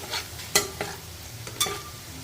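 Onions and carrot frying in a pan for tomato masala rice with a soft steady sizzle, broken by a few sharp scraping stirs.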